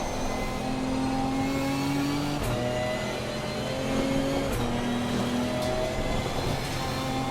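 A Ginetta GT4 race car engine in Assetto Corsa Competizione at Suzuka drones steadily, its pitch climbing through each gear before dropping at quick upshifts, several shifts in a row, close and continuous without speech.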